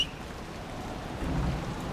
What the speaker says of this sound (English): I could use the sun if this storm ever clears.